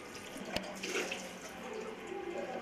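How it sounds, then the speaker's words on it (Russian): Water pours steadily from the only working tap in a run-down apartment building, a continuous rushing hiss close by with a brief knock near the start. "Вот один кран только работает, вот водичку надо."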